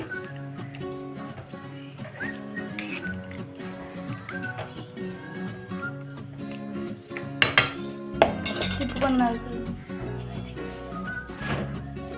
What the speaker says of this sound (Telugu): ఒకసారి తిప్పుకోండి